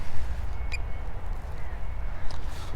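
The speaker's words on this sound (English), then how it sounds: "there's a million seagulls in the park here" Seagulls call in a park, a couple of brief, distant squawks heard over steady outdoor wind and traffic rumble.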